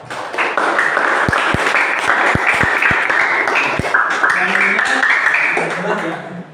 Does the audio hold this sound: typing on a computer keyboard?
no